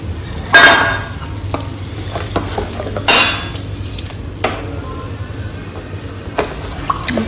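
Gram flour (besan) batter stirred in a pan with chilies, salt, turmeric and coriander: a spoon scrapes and clinks against metal in scattered, irregular knocks over a faint sizzle, close by and without speech.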